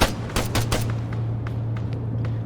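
Military wargame gunfire rattles in a quick burst of several shots at the start, followed by sparser, fainter distant shots over a steady low hum.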